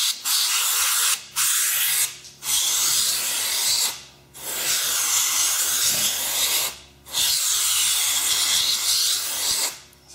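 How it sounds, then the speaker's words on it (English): Water from a hose sprays hard onto a dirty 8 Ball Slider track in repeated loud bursts separated by brief pauses, with rubbing and scraping noises in between. "So just kind of hose that thing down in there."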